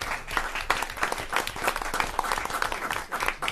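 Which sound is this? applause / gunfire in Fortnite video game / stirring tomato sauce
applause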